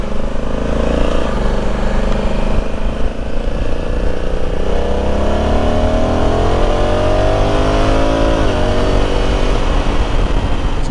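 A Zero electric motorcycle ridden at speed, a steady loud rush of wind and road noise with a rising and falling whine running throughout.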